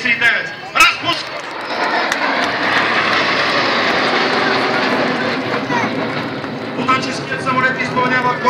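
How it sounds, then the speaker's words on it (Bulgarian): A pair of Aero L-39 jet trainers breaks formation at an air show at Sofia airport, giving a loud, steady jet roar that swells and holds, with a voice speaking over it. "Подгответе се да наблюдавате разпуска на двойката Л-39."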